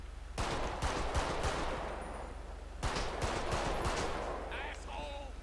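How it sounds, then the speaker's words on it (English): Gunfight gunfire in the video game GTA V with the LSPDFR police mod: two dense volleys of rapid shots over steady background noise, moderately loud, with brief tonal game sounds near the end. "Oh, we in a gunfight."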